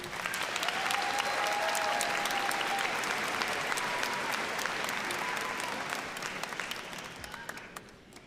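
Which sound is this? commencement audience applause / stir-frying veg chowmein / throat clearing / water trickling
commencement audience applause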